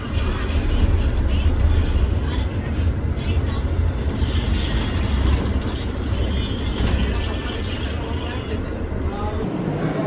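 Busy railway station ambience: a steady low rumble of trains and engines with a constant murmur of voices throughout.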